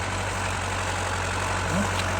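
A tractor engine drones steadily while ploughing a field, a continuous low rumble close by with no break and no voices.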